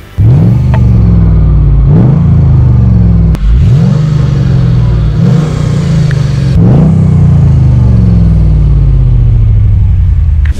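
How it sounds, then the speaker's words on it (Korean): A 1997 Mercedes CLK 55 AMG's deep V8 exhaust revs repeatedly, each rising roar climbing then settling, four or five loud pulls close by with a rumbling idle between. "AMG의 가장 큰 장점인 배기 시스템으로 배기음 소리도 특징입니다"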